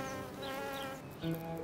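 Wasps around a caught grasshopper buzz close and continuous, with wingbeat tones wavering in pitch and a sharper, louder buzz near the end.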